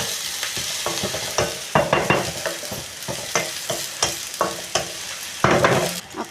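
Onion, tomato and green chilli sautéing in a pan for cabbage bhaji, a continuous sizzle broken by repeated scraping stirs in an irregular rhythm, close and fairly loud.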